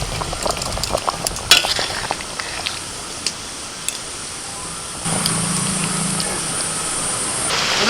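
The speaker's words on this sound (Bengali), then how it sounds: "বেগুন আর ইলিশ মাছ দিয়ে 2-3 মিনিট মতো ফুটিয়ে নিয়েছি।" Hilsa fish and eggplant curry with taro and green chilies simmers in a pan, giving soft bubbling and sizzling with a few faint clinks. The sound grows noticeably louder from about five seconds on.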